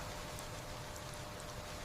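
Soft, steady rain falls in a forest, a continuous even patter with faint scattered drops, quiet and distant.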